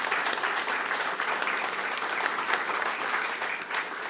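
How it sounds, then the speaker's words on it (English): Crowd applause at a sports hall of fame ribbon cutting in Polk County: steady, fairly close clapping from many hands, sustained evenly for about four seconds with no talking over it. "That deserves an applause."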